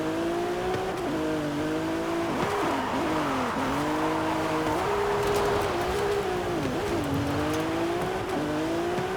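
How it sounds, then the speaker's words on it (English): A stock Ferrari engine revs repeatedly, its pitch climbing and dropping in waves over a steady loud drone, heard alone without talk for the whole stretch. "There's that Ferrari noise."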